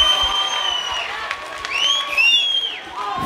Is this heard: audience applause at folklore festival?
yes